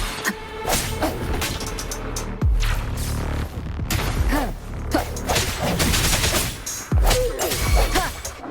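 Gunfire and impacts ring out in the video game Wuthering Waves during a boss fight against Scar, with repeated loud shots, crashes and whooshes layered over a dense game soundtrack.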